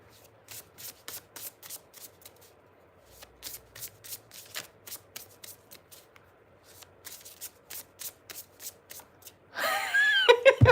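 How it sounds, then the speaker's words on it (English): Tarot cards being shuffled by hand in a quick rhythmic series of soft riffling swishes, close and fairly quiet, with brief pauses and a louder burst of handling at the end. "I'm going to pull a couple of cards"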